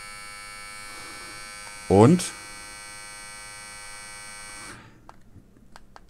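Electric shaver buzzing steadily with a constant hum for nearly five seconds, a brief louder burst near two seconds, then switching off into quiet room noise; a voice speaks briefly at the end.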